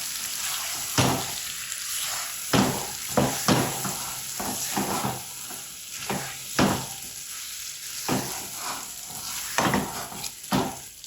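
Pickle mixture with vinegar is stirred in a pan, a steady sizzle broken by repeated scraping strokes of the spoon at an uneven rhythm, close and fairly quiet, with no speech.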